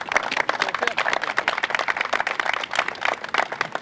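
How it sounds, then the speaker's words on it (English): A crowd applauds steadily at a San Diego Startup Week gathering, with dense, continuous clapping that stays fairly loud and even for a few seconds. "So let's give them a round of applause while we introduce Tim Ryan."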